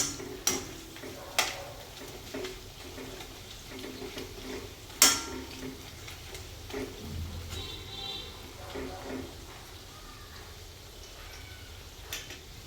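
Semolina-coated cauliflower is stir-fried in a pan, with scattered clinks and scrapes of a utensil against the pan and a faint sizzle underneath, while someone speaks at times.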